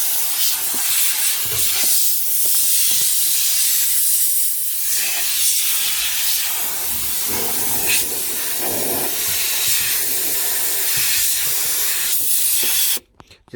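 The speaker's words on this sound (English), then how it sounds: "This is an air gun." A compressed air gun blasts dirt out of a Nissan Qashqai's interior, a loud continuous hiss with short pulsing bursts that stops abruptly at the end.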